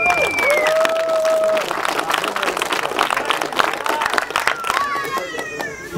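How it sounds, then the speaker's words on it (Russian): Audience applause at a fight night, ongoing clapping and crowd noise filling the hall under a loud announcer's voice and whistling tones, continuous for several seconds. "Аплодисменты."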